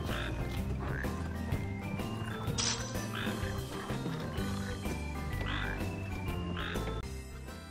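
Frogs croak repeatedly in Final Fantasy XV's Duscae region, a dense chorus of rhythmic calls layered over thick game ambience, loud and steady throughout with no speech.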